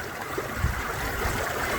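Water washes and swirls over a gold pan during gold panning in Colorado, a soft, steady close wash and trickle with a few low sloshing surges.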